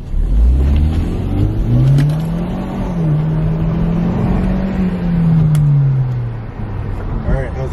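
A car fitted with a cold air intake accelerates hard in sport mode with the windows down, its engine droning and rising steadily in pitch close by, with turbo whoosh mixed in and loud throughout.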